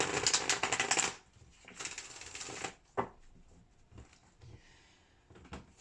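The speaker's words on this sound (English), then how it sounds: "One more shuffle." Rapid riffling of a shuffled tarot deck in two quick bursts, close up, followed by softer card handling and taps.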